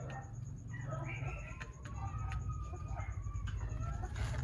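Backyard hens clucking steadily at close range, with a continuous low murmur of fowl and occasional sharper calls over a constant background hum.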